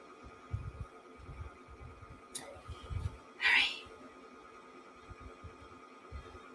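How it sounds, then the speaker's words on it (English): A bobbin winds on an embroidery machine, a low, faint throbbing hum pulsing steadily with a brief brighter whir midway, heard alone with no talk. "It's winding my bobbin"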